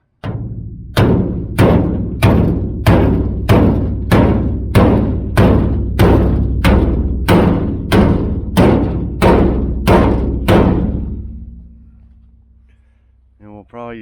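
Dents are hammered out of the body of a 1981 Chevrolet Silverado truck: a dozen loud, evenly spaced metallic bangs about one per second, each ringing briefly, then fading to quiet before a final clatter.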